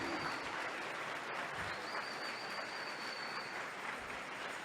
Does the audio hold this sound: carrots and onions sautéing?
no